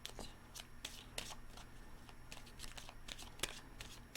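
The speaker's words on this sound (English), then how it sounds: "2 more shuffles." Tarot cards are shuffled repeatedly in quick, crisp riffles and slaps, quiet and close, with no talking.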